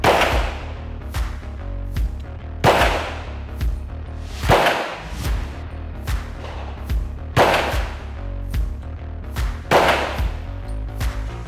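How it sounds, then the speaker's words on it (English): Centre fire handgun fired at a 10m range, five loud sharp reports spaced a couple of seconds apart, each with a brief ringing decay, and quieter clicks and handling sounds between them. "And in your own time, come up and fire 5 shots."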